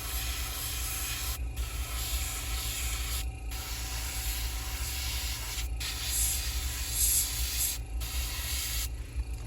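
A small air compressor runs continuously with a low droning hum and a steady airy hiss while spray painting, broken by several brief gaps where the spray stops; it is moderately quiet and has no voices over it.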